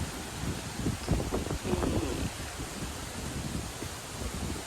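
Wind blows steadily across a kale field, a constant rushing roar and buffeting against the microphone, with some rustling and no speech.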